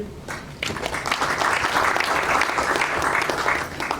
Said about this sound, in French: qui peut se lever, on va l'applaudir